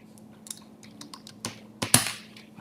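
Short bursts of computer keyboard typing, a few scattered keystrokes followed by a louder cluster of clicks near the end, close up and alone in a quiet room.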